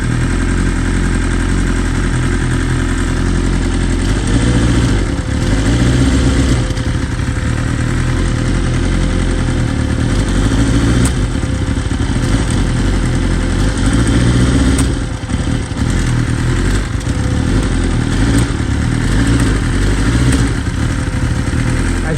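A BMW S1000RR motorcycle engine idles loudly and close by with an engine-control fault, giving a continuous rough, throbbing drone with mechanical clatter and brief dips throughout, and no talking.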